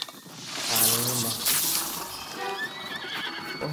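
A horse whinnies loudly in a Zelda video game, a long shrill neigh with falling pitch followed by quieter snorts and game sounds, with no talk over it.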